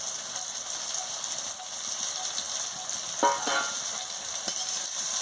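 Coriander, cumin, turmeric and chili powder with a little sugar and ginger-garlic paste fry for chicken curry, giving a steady close hiss of sizzling oil with a few brief scraping stir sounds near the middle and end.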